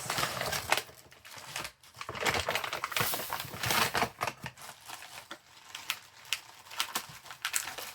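A small plastic bag is opened and handled up close, giving irregular bursts of crisp crinkling and rustling with short pauses between handfuls, no voices over it.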